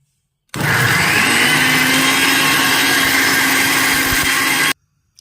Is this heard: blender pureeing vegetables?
yes